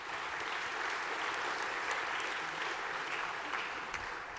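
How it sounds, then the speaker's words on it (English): A large audience at a horse-racing awards ceremony breaks into sustained applause, a dense and even wash of clapping heard from slightly back in the hall. "just a round of applause for everybody so far getting back here"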